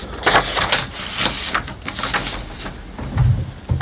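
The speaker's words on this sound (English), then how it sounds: "So this is the first printout from your HP OfficeJet Pro 8135E printer." An HP OfficeJet Pro 8135e inkjet printer printing its first page, with a steady run of mechanical clicks, whirs and paper-feed shuffles at close range, ending in a low thump near the finish.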